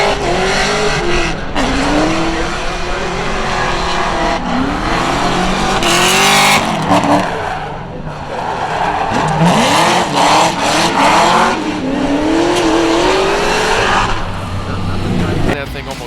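Formula D drift car at a St. Louis event screaming through a slide with sustained tire squeal and revving engine, loud and continuous, with a commentator talking over it throughout.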